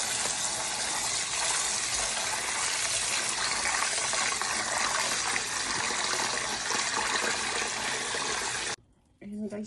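Water gushes steadily into a pot of Thai rice for cooking, loud and continuous for several seconds before cutting off abruptly.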